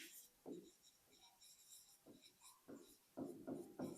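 A pen scratches across a writing surface in short irregular strokes and taps, faint and close, while someone writes out a physics problem by hand.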